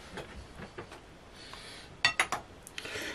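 Spatula stirring a honey mixture made with flower honey in a bowl, soft scraping with a few sharp clinks against the bowl, quiet and intermittent with no talk.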